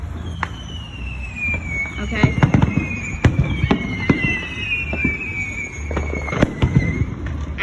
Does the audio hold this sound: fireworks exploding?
yes